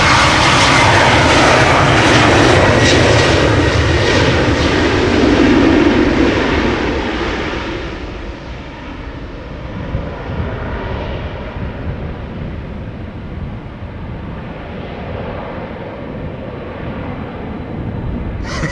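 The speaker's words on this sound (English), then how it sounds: "we have KLM Embraer 190 to Billand," A KLM Embraer 190 jet departs Amsterdam Schiphol Airport, its engines roaring loud and close at first, then gradually fading into a steady distant rumble as it climbs away.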